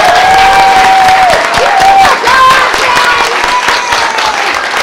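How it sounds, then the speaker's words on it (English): A crowd at a mock trial event applauds steadily for an organizer, loud sustained clapping with some cheering and a whistle-like tone above it. "And so I'd like to, everybody clap a little bit for Roxanne, because she worked so hard."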